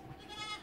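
A single short bleat from a sheep in a flock being herded in Ovacık, Tunceli, faint and a little distant.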